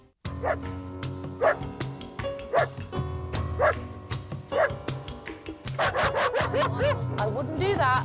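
A guide dog barks and howls in repeated, song-like bursts, loud and close, the barks coming roughly every second before running into a longer drawn-out howl over a steady musical backing.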